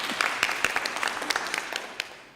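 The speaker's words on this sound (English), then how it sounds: "Another round of applause." A conference audience at a closing session claps in a short burst of scattered, fairly close claps that thin out and fade within a couple of seconds.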